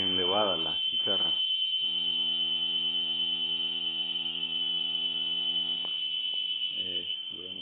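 A cicada in Lempira, Honduras gives a continuous high, piercing electric whine that holds steady throughout while a person talks over it.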